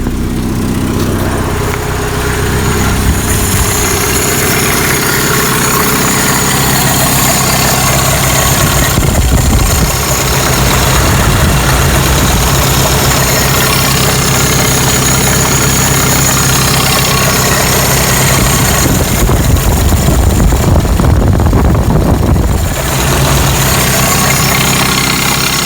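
A Toyota pickup's 22R four-cylinder engine idles after a mechanical fuel pump replacement. The low, rough, steady rumble runs loud and close throughout.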